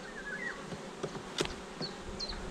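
Honey bees buzz steadily around an open hive during a swarming-season check, a soft continuous drone with a few louder passes of individual bees flying close.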